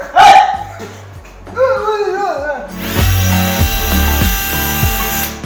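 A power drill whirs loudly and steadily in a few bursts while assembling cabinets, following a short bark and some brief chatter beforehand.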